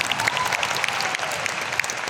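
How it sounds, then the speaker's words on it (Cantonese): Audience applause at a Cantonese-language leadership training meeting, a steady dense clapping that holds evenly for its whole short length, fairly loud and close, with no voices over it. "俾啲掌聲老闆啦！"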